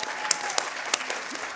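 Brief burst of audience applause at an academic conference, a short patter of clapping from a modest crowd with a few sharper individual claps.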